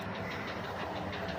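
Subway train running through a tunnel at close range, a steady loud rumble with rolling hiss and faint rhythmic clatter throughout.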